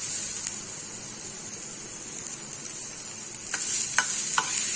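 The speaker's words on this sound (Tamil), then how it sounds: "இந்த பெரிய வெங்காயம் நல்லா பொன்னிறமா மொறுன்னு வரணும்" Large onions sautéing in hot oil until golden and crisp, a steady close sizzle and crackle with a few sharper spitting pops toward the end, no voices.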